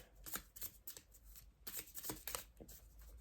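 Oracle cards from an Indigo Sage deck are pulled and shuffled by hand, producing a quick series of close, crisp riffling flutters and soft slaps in irregular bursts, with no talking.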